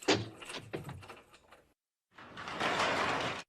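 Door locks rattle and clunk in a quick series of mechanical clicks after a door slams in an animated cartoon scene, followed by a brief silence and then a steady broadband rush.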